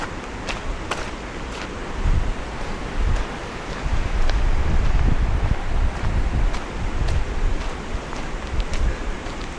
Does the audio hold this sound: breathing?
no